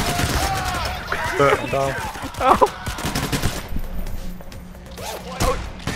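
Bursts of rapid gunfire crackle through a tense fight in the co-op heist game Payday: The Heist, mixed with thuds and clatter, while voices shout over the shooting.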